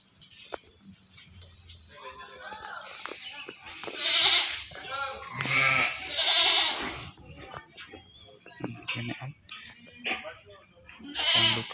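Meat goats for sale bleat in several loud calls at about 4, 6 and 11 seconds, with quieter bleats between, over a steady insect drone and some faint talk outdoors.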